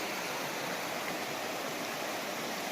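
A river flows beside a hiking trail, giving a constant, soft hiss of moving water with no pauses and no talking.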